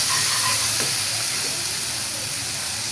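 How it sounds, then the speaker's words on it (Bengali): Masala for rohu fish sizzles in a hot pan while being stir-fried, a loud continuous frying hiss close up with faint scraping of stirring and no talking. "মশলাটারে কষাইয়া নিলাম।"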